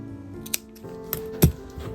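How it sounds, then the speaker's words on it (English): Scissors cut off the excess yarn on a crochet piece, giving a few soft close snips and one sharper, louder cut near the end, heard over quiet room tone. "then you just basically cut off the excess yarn here"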